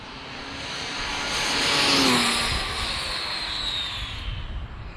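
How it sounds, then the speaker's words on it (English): A car swells past at a distance, its engine and road noise rising to a peak and then fading into a steady hum. "Got a car coming on both sides."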